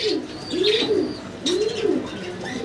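Fancy pigeons cooing nearby, two soft rolling coos in succession, each swelling and fading, over a quiet background.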